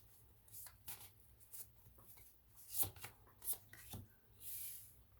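Tarot cards slid and drawn from a deck during a reading, soft papery swishes and rubs with a few sharper card snaps, close and quiet, with no voice over them.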